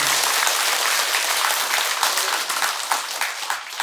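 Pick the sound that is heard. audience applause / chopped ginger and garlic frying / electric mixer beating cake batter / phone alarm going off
audience applause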